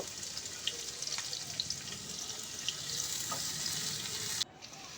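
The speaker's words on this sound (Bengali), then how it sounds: "তো পেঁয়াজটা দিয়ে আমি একটু হালকা ভেজে নেব।" Two chopped onions fry in hot oil, giving a steady close sizzle with scattered crackles and small pops, which drops abruptly near the end.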